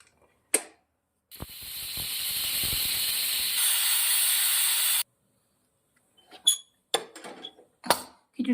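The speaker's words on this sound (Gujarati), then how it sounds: "કુકરને બંધ કરી દઉં છું અને 2 સીટી મારી જશું।" A pressure cooker cooking khichdi releases a loud, steady hiss of steam for several seconds before cutting off, followed by a few short clanks and bursts of rattling.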